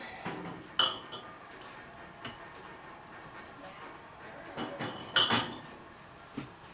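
Glass jars clink against each other and against metal oven racks as they are set into an oven for sterilizing, several sharp knocks scattered among quieter handling and faint shuffling.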